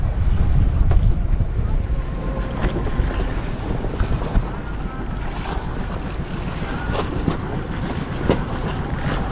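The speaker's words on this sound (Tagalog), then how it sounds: "O, yun o, lakas na ng hangin." Strong wind on a tuna fishing boat at sea, a loud continuous rush with microphone buffeting over the low rumble of the vessel and waves, steady for about nine seconds.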